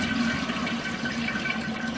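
A toilet flushes, with water rushing through PVC drain piping at a Y fitting, producing a loud, close, continuous gurgling roar that fills the whole moment.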